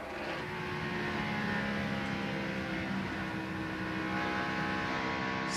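NASCAR stock car engines at wide open throttle off turn 2 during the 2001 Harrah's 500, a loud sustained high-pitched roar with climbing harmonics and no breaks.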